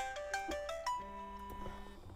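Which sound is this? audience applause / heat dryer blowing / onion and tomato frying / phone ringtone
phone ringtone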